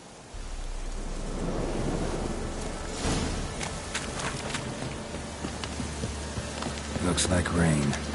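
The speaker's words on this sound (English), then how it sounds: "Looks like rain." Steady rain patters in The Witcher 3 while thunder cracks and rolls in bursts, with scattered sharper impacts and a low rumble underneath.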